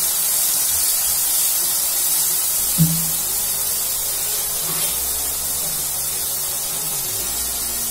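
Garlic chutney paste sizzles hard in a kadhai as a continuous loud hiss, with one small clink partway through and no speech over the steady frying noise.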